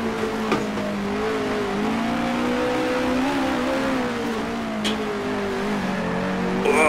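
A 1960s Grand Prix race car engine in Grand Prix Legends, racing the 1966 Warwick Farm Tasman Series round, revs loudly and steadily throughout, its pitch rising and falling with throttle and gear changes, close and alone.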